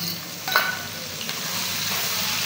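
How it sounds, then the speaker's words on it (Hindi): Ginger garlic paste sizzling in a pan with onions already fried golden brown, a steady hiss of hot oil with a brief sharper crackle near the start, close and alone. "अच्छे से भून लेंगे लहसुन अदरक के पेस्ट को।"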